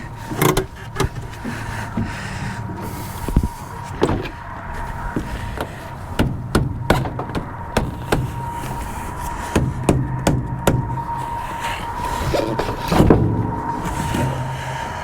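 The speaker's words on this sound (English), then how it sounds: "We're gonna see if the parking brake itself works." Parking brake being worked on a Land Rover, with repeated mechanical clicks, knocks and clunks over a low engine-like hum, fairly close and irregular.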